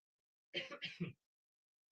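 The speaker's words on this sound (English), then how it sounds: "I'm sorry, I'm going to have to cough." A few quick, rough coughs in a row, close to the microphone, with a faint click afterward.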